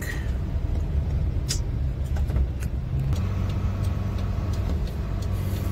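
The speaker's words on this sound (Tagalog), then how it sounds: "Maraming traffic." Steady road traffic heard from inside a truck cab on the way back to lodging, a constant low engine and road rumble with faint passing vehicles and a few light rattles throughout.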